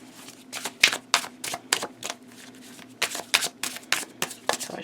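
A Marseille tarot deck being shuffled during unboxing, a run of close, crisp riffling card snaps in quick irregular bursts over a faint steady hum.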